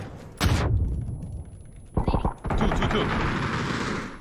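Full-auto fire from a new gun in a shooter video game: a loud burst opens, another short burst follows near the two-second mark, then sustained rapid fire runs to the end, with brief spoken words over it.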